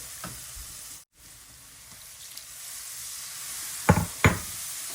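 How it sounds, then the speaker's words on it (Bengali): Ground cumin, coriander, turmeric and chili with ginger-garlic paste fry in a pan with a soft, constant sizzle, broken by a brief hush and then two sharp utensil knocks near the end; no voices. "এখন আমি মশলাটা ভালো করে কষিয়ে নেব আমি ভেজে দিলাম"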